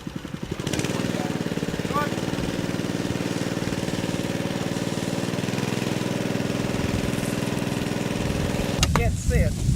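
An engine running at half throttle at a site where osprey nesting platforms are being put up, a steady, rapid, chugging drone that runs nearly unbroken, close and fairly loud, with a brief clatter near the end.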